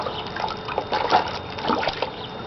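A gun part is dunked and sloshed in water during cleaning, giving close splashing and trickling liquid sounds that rise and fall over a couple of seconds with no talk.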